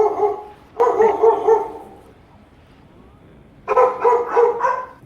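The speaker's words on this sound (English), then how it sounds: "Cranky puppy." A cranky puppy lets out two bursts of high, yappy barks, close and loud, separated by a quiet pause.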